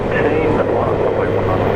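A Singapore Airlines airliner departs Brisbane International Airport, a steady broadband engine roar holding at a constant loud level with voices talking over it.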